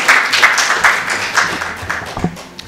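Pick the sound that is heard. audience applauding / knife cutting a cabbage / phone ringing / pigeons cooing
audience applauding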